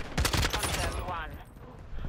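Shotgun fire in Call of Duty: Modern Warfare II multiplayer, a quick burst of several loud, close blasts in rapid succession that trail off, with a player talking faintly.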